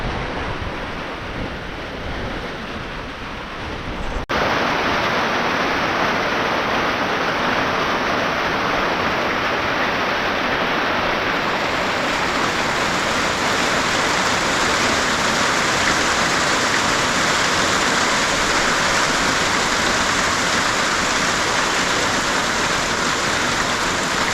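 Heavy rain pouring down at a home, a steady, loud, dense hiss of downpour on surfaces that grows fuller after a few seconds and keeps on without a pause.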